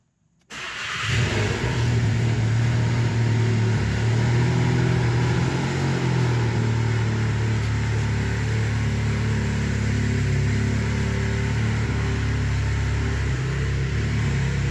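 A 2017 Volkswagen Golf R, running a stage 3 tune with a new engine and FR450 kit, fires up and settles into a steady, loud idle that drones on alone with no talk.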